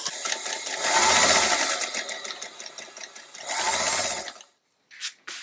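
A sewing machine stitches a scant quarter-inch seam on a log cabin quilt block, two steady whirring runs of rapid needle clatter separated by a brief pause, then a couple of short clicks.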